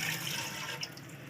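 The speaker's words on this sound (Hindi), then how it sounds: "इसमें पानी डाल देंगे," Water pours into a cooking pot of salted goat trotters, a faint brief splashing gush that trails off after a moment.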